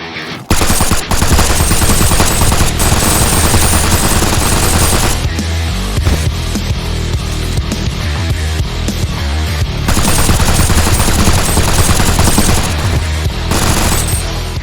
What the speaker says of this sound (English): For his neutral special, he wields a gun.